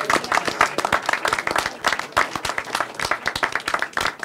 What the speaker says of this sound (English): Let's have a round of applause for Carmel over here